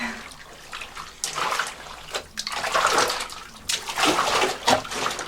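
Water splashing and sloshing in a shower as wet laundry is stomped underfoot, in uneven bursts with the spray running steadily underneath.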